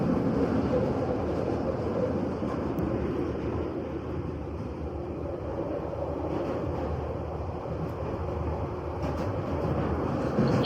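A train carries riders through London. A steady, loud rumble of wheels and carriage noise runs throughout, with some wind buffeting and no clear talk.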